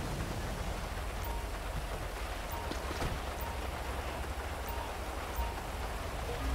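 Steady rain falls in GTA 5, a dense unbroken hiss that holds at one level throughout, with no voices over it.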